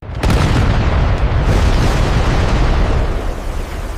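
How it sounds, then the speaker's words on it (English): A deep explosion for blasting fire breaks during the 1906 San Francisco fire, a loud boom followed by a sustained broadband roar and rumble that lingers for several seconds. "Hoping to blast fire breaks and slow the fire's relentless advance."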